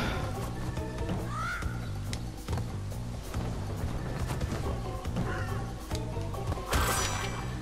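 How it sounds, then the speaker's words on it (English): Birds squawk and caw in the Pinstripe Potoroo level of Crash Bandicoot on PS4, the harsh calls rising over dense, steady game music and effects, with a bright burst of noise near the end. "Oh god, birds."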